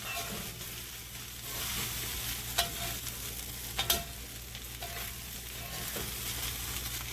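Spinach stir-frying in a hot pan for loaded fried rice with steak, shrimp and chicken, a steady close sizzle broken by a few sharp scrapes and clinks of the spatula.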